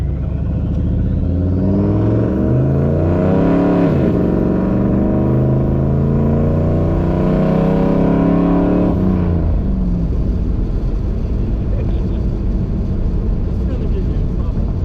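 A truck engine with a new muffler mounted under the hood revs up and winds down with a turbo-like whine, loud and close, with people talking over it.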